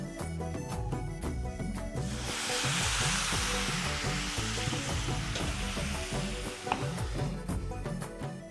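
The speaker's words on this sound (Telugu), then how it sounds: "పల్లీలు, కరివేపాకు, జీలకర్ర, వెల్లుల్లి కొంచెం అంటే ఈజీగా రోస్ట్ అయిపోతుంది" Peanuts, curry leaves, cumin and garlic dry-roasting in a pan give a steady sizzling crackle, with soft stirring scrapes and clinks throughout; the hiss swells for a few seconds before easing back.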